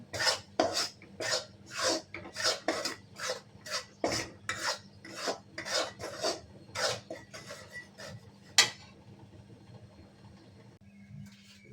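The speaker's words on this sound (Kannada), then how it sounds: "ಹಸಿ ವಾಸನೆ ಹೋಗೋದಕ್ಕೋಸ್ಕರವಾಗಿ ಕಡಲೆ ಹಿಟ್ಟನ್ನು ಹುರ್ಕೊಳ್ತಾ ಇದ್ದೇನೆ." Gram flour being stirred and roasted in a pan for Mysore pak, a close, rhythmic scraping of utensil against metal, about fourteen strokes, then a sharp clink and quieter pan noise.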